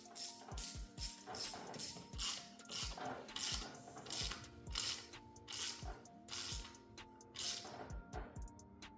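A ratchet clicks in quick repeated bursts while snugging the rocker cover bolts on a 2025 Kia K4 2.0L, with metallic pawl ticks and small tool clinks close by and rhythmic pauses between strokes.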